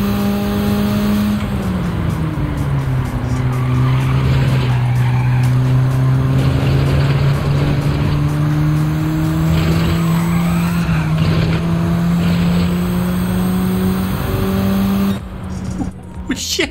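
A race car in Gran Turismo 7 skids with a long, loud tire squeal over a droning engine note that rises and falls as the car slides and recovers.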